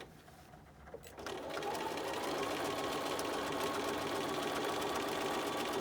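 A sewing machine back-stitches a fabric mask. It starts after a quiet second and then runs as a fast, steady whirring stitch that stays close and even to the end.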